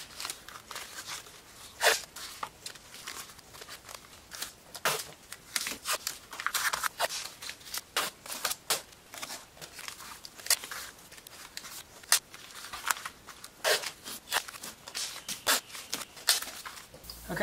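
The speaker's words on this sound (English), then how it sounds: "First thing I'm gonna do is wrap it all in tape to try to keep from ruining the wheel" Tape being pulled and wrapped around a car wheel lock before it is cut off, heard as repeated sharp rips and crinkles in irregular bursts, close and moderately loud, with no speech.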